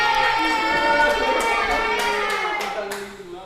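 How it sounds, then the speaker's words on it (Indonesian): Classroom applause during an Islamic studies microteaching lesson, a steady patter of many hands clapping together for a few seconds before tapering off, with children's voices mixed in. "Kita beri tepuk tangan"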